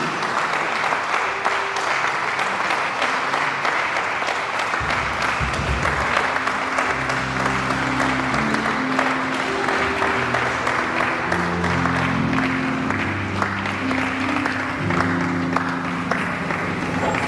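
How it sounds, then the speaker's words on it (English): Audience applause for Professor Olubunmi Adetoro Otubanjo at her valedictory lecture, a dense, steady roar of many hands clapping that fills the hall without a break. "Round of applause for her."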